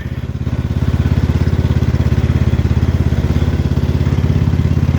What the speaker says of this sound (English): Driving the tractor out in my backyard there